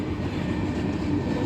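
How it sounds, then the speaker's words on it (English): A southbound loaded steel freight train rolls past in Tipp City, Ohio, its steady, dense rumble of rail cars continuous and close throughout, with no voices heard. "this is B522 southbound loaded steel train going to Middletown"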